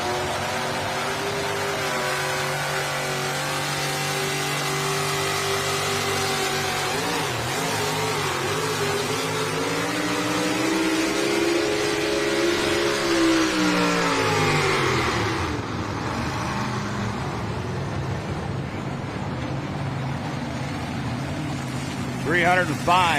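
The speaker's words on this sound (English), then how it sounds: "Next two-wheel drive puller comes out of North Bend, Nebraska." A two-wheel drive pulling tractor named Mama's Nightmare, out of North Bend, Nebraska, revs hard at a tractor pull, its engine pitch rising and falling through long loud pulls, with an announcer talking over it.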